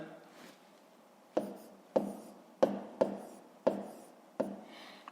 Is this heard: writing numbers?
yes